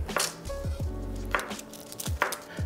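A knife slices ingredients thinly on a cutting board for Sri Lankan coconut sambol, giving a run of close, crisp chops in quick succession over a low hum, with no talking.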